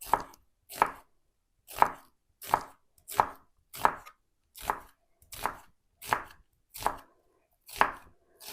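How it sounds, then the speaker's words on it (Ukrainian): A knife slicing red onion thinly on a cutting board, about a dozen crisp, evenly paced cuts landing roughly every half second, close and clear with no talking. "Пір'ячком хочу нарізати тоненьким."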